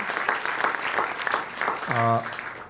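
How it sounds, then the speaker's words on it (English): An audience applauds at an Obama Foundation leadership gathering at the University of Hawaii: steady, full-room clapping throughout, with a short, high, sustained vocal cheer rising above it near the end. "Please give them a big round of applause."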